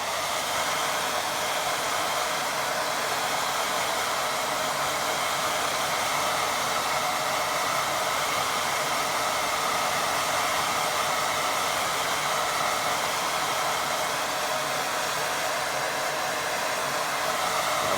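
A hair dryer blows steadily and loudly over a watercolour painting, a constant close whoosh that runs without a break the whole time.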